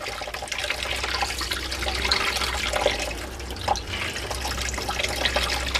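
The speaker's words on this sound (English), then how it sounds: "Let's let it run a little bit until the air bubbles stop coming out." Water runs from the freshly opened aerator of a water filtration system, a steady broadband hiss with slight sputtering as trapped air works its way out. It continues throughout at a fairly even level.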